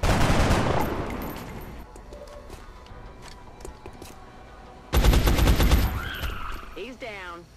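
Gunfire from soldiers shooting at aliens in XCOM, with loud, dense bursts of rapid shots and a second volley after a lull, and talking voices during the quieter stretch between bursts.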